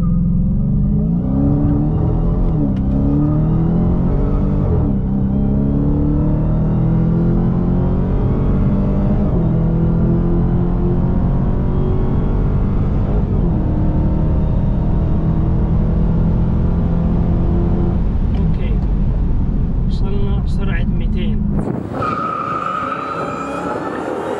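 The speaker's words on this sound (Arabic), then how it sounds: "نشوف تسارع السيارة من 0 ل 100 و200 والكوارتر مايل" A Dodge Challenger Hellcat in track mode pulls hard from a standstill through 0-100 and a quarter-mile run, its loud supercharged engine climbing steadily through repeated gear shifts for over twenty seconds before cutting off abruptly.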